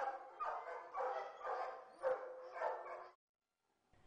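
A gendarmerie police dog barks in a rapid series of about six loud, close barks over three seconds, then falls silent.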